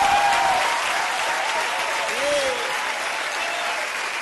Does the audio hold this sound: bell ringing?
no